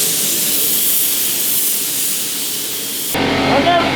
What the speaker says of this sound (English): Do some test sprays on the hood.